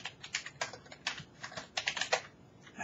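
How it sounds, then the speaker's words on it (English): Someone types at a computer keyboard in quick, uneven bursts of key clicks, close by and fairly soft, with no talking. "my typing is getting bad"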